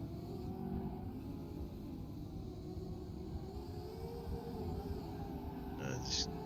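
Cars lap a raceway while a camera drone follows them, their engines a steady, close rumble that holds throughout, with a brief higher burst near the end.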